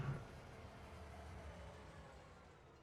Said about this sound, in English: All right, we can see the train coming.